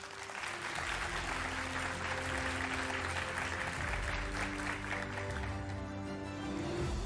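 A school mathematics competition audience applauds as students are called onto the stage, a dense, sustained clapping of many hands that stays even throughout, with no voices.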